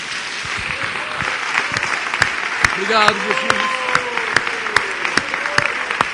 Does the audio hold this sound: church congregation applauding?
yes